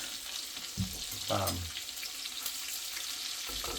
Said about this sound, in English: Medium heat is what you want to cook the bacon at.